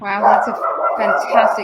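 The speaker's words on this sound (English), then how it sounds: "that's my dog barking, so you may hear him. He heard the doorbell ring." Dog barking at the sound of a doorbell, heard indoors in the background beneath continuous conversation, with sharp bursts under and between the talking.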